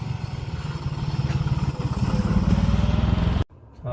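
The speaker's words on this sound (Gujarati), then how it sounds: "અને જો ઓલું ટ્રેક્ટર જાય" A tractor drives past on a farm, its engine chugging in a steady, loud, close throb that continues without a break before cutting off abruptly near the end.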